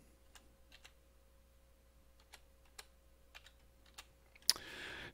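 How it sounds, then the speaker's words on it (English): Slow one-handed typing on a computer keyboard while saving a file in an animation project: sparse, irregular, close key clicks at a quiet level, ending with a brief louder clatter and shuffling noise. "Typing with one hand, it's a little slow."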